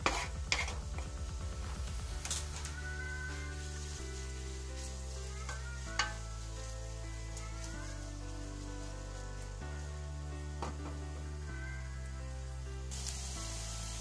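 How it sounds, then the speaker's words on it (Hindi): Chopped onions fry and brown in a pan, giving a quiet, steady sizzle with occasional stirring clicks. A stepped, tonal background melody plays throughout. "प्याज हमारा ब्राउन हो रहा है"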